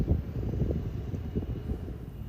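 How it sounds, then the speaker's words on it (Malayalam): Wind blows through a kitchen garden in Qatar, a steady low rumbling buffet on the microphone with faint gusting swells and no voices. "ഞാൻ ഈ വീഡിയോ എടുക്കുന്ന ടൈമിലും നന്നായിട്ട് കാറ്റ് വീശുന്നുണ്ട്. കാറ്റ് വീശുന്ന സൗണ്ട് കേട്ടോ."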